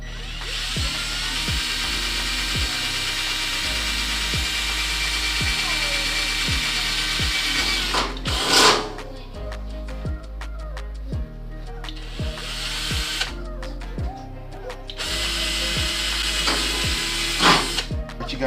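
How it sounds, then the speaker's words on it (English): Power drill boring holes through a thin metal bracket during work on a B20 VTEC race Civic, a steady high whine with rhythmic clicking bursts, nearby and loud, with short pauses between holes. "So I just mark it right here with a marker and then drill holes in it."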